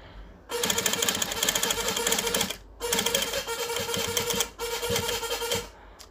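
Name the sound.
sewing machine stitching a raihan kurta collar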